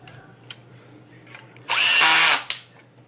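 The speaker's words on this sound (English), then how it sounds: "Use the drill" A power drill whirs in a single high-pitched burst of under a second, driving a screw into a TLR 8ight T 4.0 truggy kit, with faint clicks and handling noise around it.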